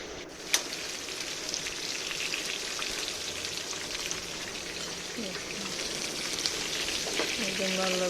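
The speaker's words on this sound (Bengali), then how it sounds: "একদম লাল লাল করে ফ্রাই করে বাটাতে নিয়ে নিচ্ছি" Chicken fries in oil with a soft, continuous crackle and hiss like light rain, fairly quiet, with a sharp tap near the start and no talking.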